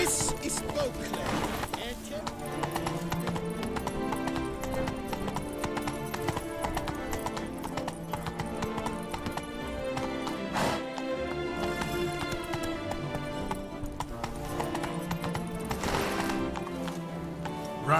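In The Witcher 3, a horse gallops along a road near Beauclair with steady, driving hoofbeats. Game music and ambience run underneath, and a neigh or snort breaks in now and then.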